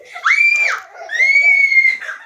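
Children scream during a pillow fight at home, two long high-pitched shrieks close by, the first rising and breaking off, the second sustained and wavering before trailing away.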